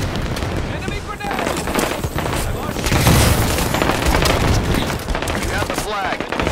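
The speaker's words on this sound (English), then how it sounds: "Enemy grenade!" Enemy grenade exploding in a Halo 5 Big Team Battle capture-the-flag match, dense booms and rapid gunfire in continuous loud layers, with an announcer's voice over the combat.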